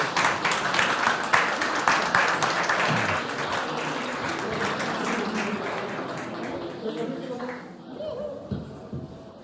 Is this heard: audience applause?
yes